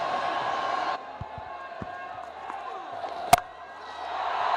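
Stadium crowd at a Pakistan Super League cricket match between Peshawar Zalmi and Lahore Qalandars, a broad roar of cheering that drops, rises again toward the end, with a commentator speaking over it.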